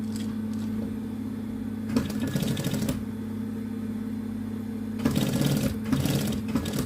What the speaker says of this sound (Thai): ปักทิ้งดังปึกปึกปึกเลยนะคะ